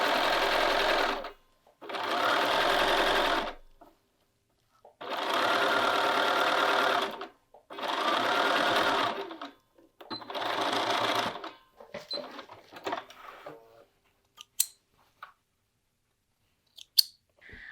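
Sewing machine stitching short cuffed sleeves, running in several loud bursts of rapid needle chatter separated by pauses, followed by scattered fabric handling and clicks.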